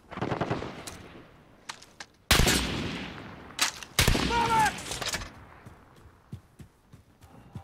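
Gunfire in a Call of Duty: Modern Warfare headquarters match, loud sudden bursts of automatic fire cutting in twice, with scattered single cracks and fading echoes between quieter stretches.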